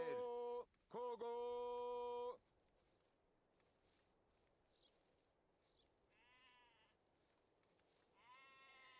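Sheep bleating in a medieval strategy video game, two loud close bleats at the start, then quieter bleats and small game sounds with a further bleat near the end.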